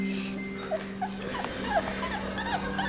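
Solid black purebred Scottish Terrier puppies let out a few soft, high whimpers and squeaks, scattered and faint over a quiet indoor background with a low steady hum.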